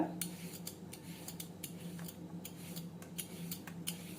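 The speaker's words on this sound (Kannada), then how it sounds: "ಕುಕ್ಕುಂಬರ್ದ ಈ ರೀತಿಯಾಗಿ ಸಿಪ್ಪೆ ತಕ್ಕೋಬೇಕ" A cucumber is peeled for a weight-loss salad, heard as close, rhythmic scraping strokes about every half second, each a brief crisp rasp over a quiet kitchen background.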